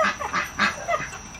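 An African goose honks four or five times in a quick, uneven series of hoarse, nasal calls, close by and fairly loud, with no talking.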